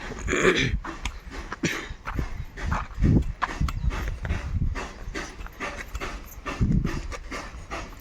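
A dog pants rapidly and rhythmically right up close, with scuffling movement throughout.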